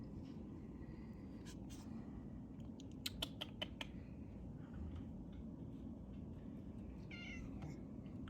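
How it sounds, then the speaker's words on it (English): A cat meows a few times outdoors near a deck, the short, thin calls scattered over steady wind and ambient outdoor noise, with a quick run of rising mews toward the end. "Come here, kitty."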